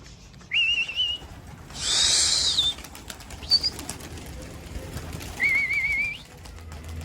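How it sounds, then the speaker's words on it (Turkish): Bango pigeons released from a rooftop flap their wings in a broad burst mid-clip, with thin whistling calls at the start and end and a few faint outdoor sounds between. "Arkadaşlar kuş aşağıda uçuyor."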